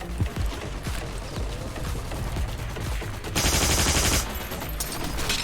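M2 machine gun firing in the World War II shooter Heroes & Generals, rapid repeated bursts of close, loud gunfire with a harsher sustained burst near the end.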